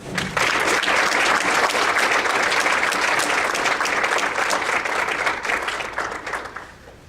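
Sustained applause from a breakfast keynote audience greeting Congressman Mark Amodei, many hands clapping loudly and evenly for several seconds before tapering off at the end, with no talking over it.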